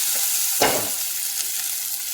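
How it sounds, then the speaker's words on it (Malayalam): Hot tempering fried in sesame oil tipped into a homemade pickle gives one sharp burst of sizzle, then quiet hissing fades under a low steady background, with no one speaking. "നമുക്കിനി ഇതിലേക്ക് വറുത്ത് കൊട്ടാം."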